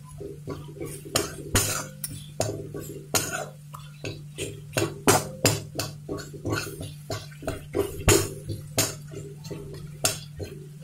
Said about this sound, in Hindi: सबको अच्छी तरह से भून लूंगी।